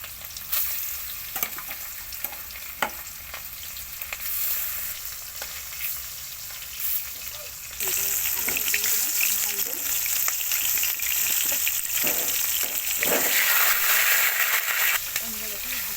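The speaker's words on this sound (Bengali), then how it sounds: "বন্ধুরা দেখুন তেল গরম হয়ে গেছে, এবার আমি মাংসটাকে এক এক করে ভেজে নেব।" Chicken pieces fry in hot oil in a pan, giving a steady hiss and sizzle that grows louder and denser about halfway through as more meat goes in, with occasional stirring clatter.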